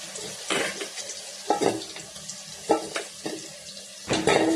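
Bitter gourd pieces deep frying in oil, a wet bubbling sizzle broken by several splashy bursts and spoon stirring, fairly close, with no talk.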